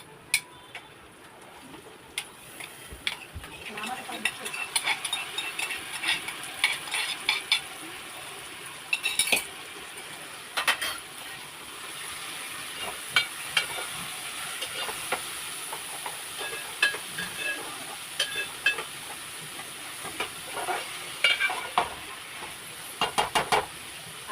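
Garlic and tomatoes sizzle and hiss steadily in a hot pan while being stirred, with frequent sharp clinks and scrapes of a utensil against the pan throughout. Nobody speaks.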